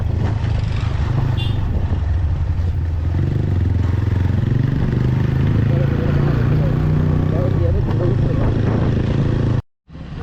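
Yamaha MT-15 motorcycle ridden at night, a steady low engine drone with wind rush filling the whole stretch before cutting out briefly near the end.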